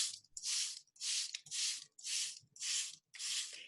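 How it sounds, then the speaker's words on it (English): A hand spray bottle mists freshly sown seeds in soil for indoor seed starting, six quick hissing sprays in an even rhythm, close and fairly soft, with brief quiet gaps between. "I'm going to spray it."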